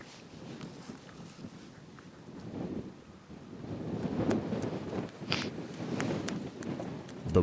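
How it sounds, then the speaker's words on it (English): Wind gusting across a lake in Newfoundland during a rainy, squally moose hunt, buffeting the microphone in rising, uneven surges with a few sharper knocks near the end. "Windy."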